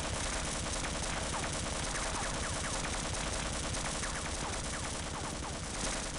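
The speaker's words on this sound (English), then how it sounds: "It's still firing at us." Automated turret firing in Half-Life, a continuous rapid chatter of shots with sharp metallic pings scattered through, steady and fairly loud from start to finish, no talk.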